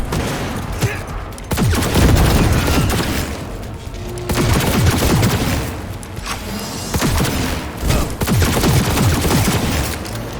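Heavy gunfire from the video game Cyberpunk 2077, played on very hard difficulty: loud, dense volleys of shots and booms that come in repeated waves across the whole stretch, with no talking.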